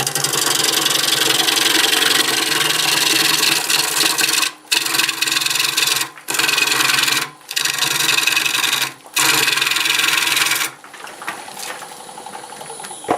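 A bowl gouge cuts wood on a turning lathe in five loud, rasping bursts separated by brief gaps, then leaves the lathe motor humming quietly on its own.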